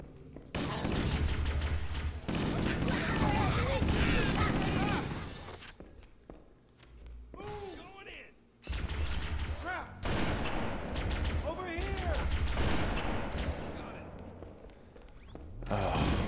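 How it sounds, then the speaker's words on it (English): Plasma rifle fire in Halo, rapid bursts of energy shots with thumps and footsteps, loud and close, broken by a brief quieter lull partway through, with some speech present. "they are just crazy with the plasma rifles"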